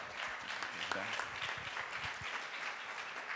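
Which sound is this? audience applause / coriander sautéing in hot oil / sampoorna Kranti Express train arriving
audience applause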